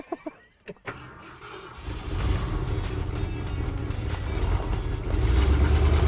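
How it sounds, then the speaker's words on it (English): A Ford F100 truck's starter clicks and cranks briefly, then the engine catches and settles into a low, steady, close idle rumble that grows louder toward the end, with no voices. "So now I just need to hit the starter and go, huh?"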